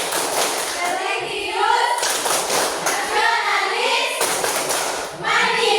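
A class of children performs the rhythmic PPK clap chant, calling out the words in unison with sharp bursts of hand claps between phrases, close and lively.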